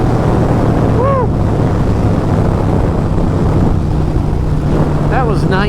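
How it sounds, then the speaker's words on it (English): Strong wind rushes past on a Harley-Davidson Iron 883 motorcycle without a fairing at high speed, a loud, steady buffeting roar close to the microphone, with brief whoops and voice sounds cutting through near the start and end. "Without a fairing in front of you, that is a lot of wind"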